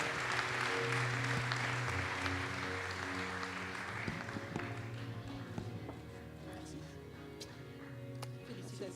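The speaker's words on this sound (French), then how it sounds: "Christophe Madoré, que l'on applaudit bien évidemment." Applause from an audience, a broad steady wash of clapping over a low musical hum, gradually thinning out toward the end.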